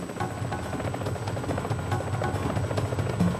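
A military helicopter hovers close overhead during British peacekeeping training in Bosnia in bad weather, its rotor downwash making a loud, steady, rapid thudding beat under a continuous engine whine, with no voices.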